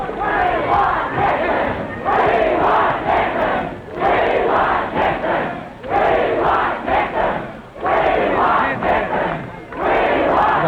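A large crowd cheers and chants rhythmically for Vice President Nixon at an election-night campaign rally, loud waves of massed voices rising and falling in repeated bursts.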